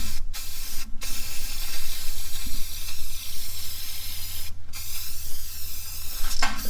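Aerosol spray paint hissing steadily and close on fender flares for an 88-98 Chevrolet K1500 truck, a continuous loud spray broken by a few short pauses as the nozzle is released and pressed again.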